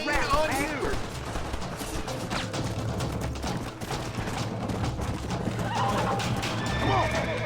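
Horses whinny loudly while hooves clatter in a fast, steady gallop, with bursts of gunfire and shouting mixed in, in the video game Red Dead Redemption.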